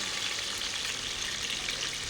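Potatoes and onions fry in a pan for vegetable khichdi, giving a steady, close, crackling sizzle with no pauses and no voices.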